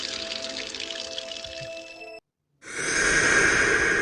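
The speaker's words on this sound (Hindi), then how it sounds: "जैसे बाहर किसी ने पानी का टैप ओपन किया हो।" Water gushing from a tap opened somewhere outside, a steady hissing rush that cuts off into a brief silence and then returns louder and fuller.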